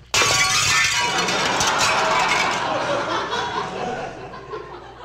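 A football smashes through expensive French windows in a comedy sketch, a sudden loud crash of shattering glass that rings out and tumbles for several seconds, with audience laughter following.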